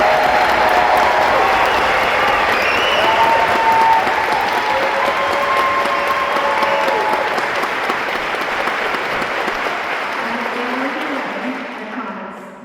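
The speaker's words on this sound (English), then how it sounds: "Please give a huge round of applause for our finalists." Sustained audience applause for finalists at the Honors Performance Series concert in Sydney, loud and dense throughout with some cheering voices mixed in, tapering off near the end.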